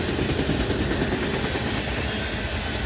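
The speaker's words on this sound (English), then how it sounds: "Definitely, this looks like a high priority train here." A high-priority intermodal hot-shot freight train rolls past close by at Oak Harbor, Ohio, as a loud, continuous rumbling roar of rail cars on track with no pauses.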